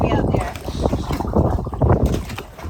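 A catamaran slaps and splashes through wind-whipped, choppy water, with irregular watery bursts and gusting wind buffeting the microphone up close, while a voice talks over it.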